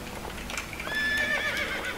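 A horse in Assassin's Creed 2 lets out a loud, close whinny with a rising and falling pitch over the last second, after a stretch of faint game ambience with soft hoof-like thuds.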